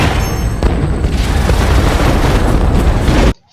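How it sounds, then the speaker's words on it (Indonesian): A film explosion erupts as a dense, loud, sustained blast and rumble for several seconds before cutting off abruptly into quiet. "Charlie pun meledakkan tempat itu."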